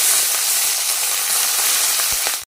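Chopped green chillies frying in hot oil in a kadai with fried onions, a loud steady sizzle with faint stirring clicks that cuts off abruptly near the end.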